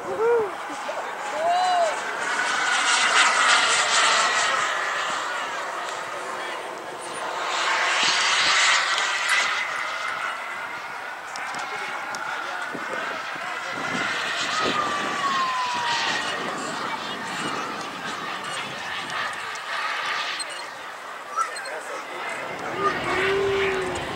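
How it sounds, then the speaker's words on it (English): A Rafale fighter jet roars past at a Fourth of July airshow, trailing white smoke from oil injected into its exhaust; the loud engine noise rises and falls in sweeping passes, with a voice commentating over it. "Dave Mosher came out just to fly for you all the way from Pacifica today."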